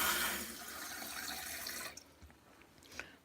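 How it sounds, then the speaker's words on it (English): A garden hose pours fresh water while plants are watered outdoors, a steady near hiss of flowing water that cuts off and leaves a few faint drips and splashes. "Look at that. Nice fresh water."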